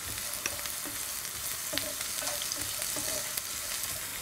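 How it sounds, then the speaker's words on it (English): Onions and garlic frying in a pan for a mushroom curry, a steady sizzle under repeated light clicks and scrapes of stirring. "And to the pan, I'm going to add my onions. And then in goes the garlic."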